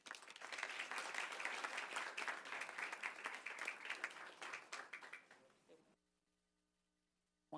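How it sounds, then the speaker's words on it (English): An audience at a township council meeting in Franklin Township, New Jersey, gives steady, dense applause for about six seconds before it stops abruptly, leaving near silence. "So my applause go out to them."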